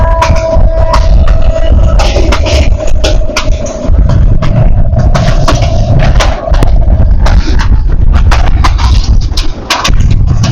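A local passenger train running at high speed gives a loud, continuous rumble and rattle, with rapid clacking bursts heard from inside a carriage.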